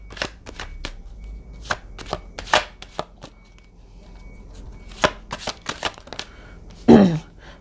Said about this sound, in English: Let's pull some cards on it.